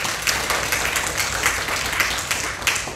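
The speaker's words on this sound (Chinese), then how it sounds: "我们掌声给上帝好不好？" A church congregation gives applause during a Sunday worship service, a modest wash of scattered hand claps with a few sharper individual claps standing out.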